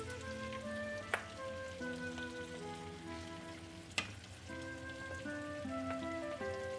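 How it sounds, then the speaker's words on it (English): Onion sautéing in a pan for lentil spinach soup, a steady soft sizzle and crackle running close and continuous, with a couple of brief clinks from a utensil touching the pan. "While we are waiting for the onion to be sauteed"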